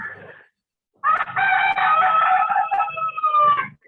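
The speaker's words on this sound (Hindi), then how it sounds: "कोई मुर्गी मुर्गा बोल" A rooster crows loudly and close by, a drawn-out cock-a-doodle-doo after a short quiet gap, heard through the microphone of an online college class.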